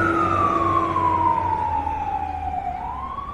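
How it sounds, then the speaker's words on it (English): A loud wailing fire truck siren slowly falls in pitch as it moves past, over a steady low traffic rumble in Vancouver's West Point Grey; no one speaks. "Is it an ambulance or is it a fire truck?"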